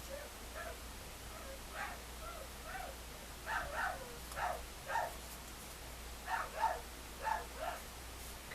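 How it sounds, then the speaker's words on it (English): A dog barks repeatedly in the background of a quiet room, the barks coming in bursts, some spaced and some in quick runs of two or three, moderately loud and somewhat distant. "why is she barking so much? That's my granddaughter's dog in the back doing all that raising Cane"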